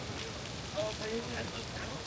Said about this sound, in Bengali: যেটা আমরা দেখছি এখানে ঝুমঝুম করে মুষলধারে বৃষ্টি হচ্ছে।